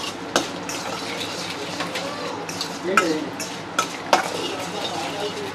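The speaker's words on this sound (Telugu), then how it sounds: "ఇవైతే కొంచెం ఫ్రై చేసుకుంటున్నాను" Coconut pieces and dried chillies fry in a pan for coconut chutney, giving a light sizzle under scraping and stirring. Several sharp clinks of the stirring utensil against the pan are heard, with occasional speech in the background.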